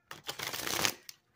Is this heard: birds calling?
no